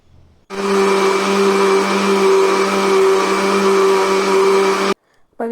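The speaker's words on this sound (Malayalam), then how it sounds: "നമുക്ക് വീണ്ടും മിക്സിയുടെ സ്വിച്ച് ഓൺ ആക്കാം" A mixer grinder churns cream into butter at full speed for about four seconds, a loud steady whirring hum that starts abruptly and cuts off sharply.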